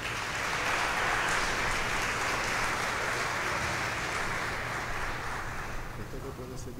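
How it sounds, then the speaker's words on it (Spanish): An audience at a Christian talk claps warmly to welcome someone speaker back to the stage. The applause is dense and sustained, with a faint murmur of voices under it, and eases slightly toward the end. "la recibimos de nuevo con un fuerte aplauso"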